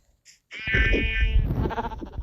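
Sheep bleating in the Minecraft video game, a loud, wavering bleat that starts after a brief quiet moment and carries on with a harmonic, quavering tone until the end.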